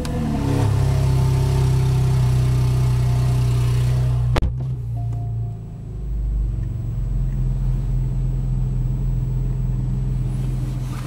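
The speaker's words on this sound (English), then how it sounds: "put your foot on the brake, and turn the ignition." A 2013 Porsche 911 Carrera S flat-six engine fires up with a loud, deep rumble, a sharp transient as it catches, then settles into a steady, slightly lower idle hum.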